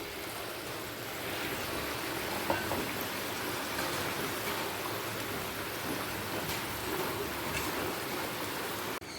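Fish curry simmering at a steady boil as pieces of pre-fried katla fish go in, a continuous close bubbling hiss with a few faint knocks, no talking.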